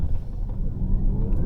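A Jaecoo 8 plug-in hybrid SUV with a 1.5 T-GDI engine launches hard in Sport mode, giving a brief, loud, low rumble of acceleration heard from inside the car.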